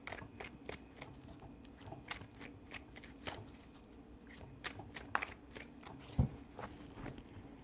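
Tarot cards are shuffled close up in repeated quick riffles and soft flicks, with brief taps and a faint hum in the background.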